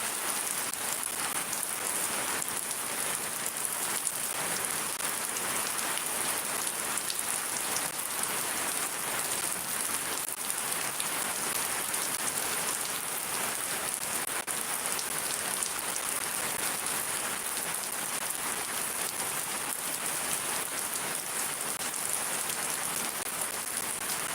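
Heavy rain pours down steadily in Shariatpur, a dense, loud hiss of drops striking surfaces that carries on unbroken throughout, with no voices.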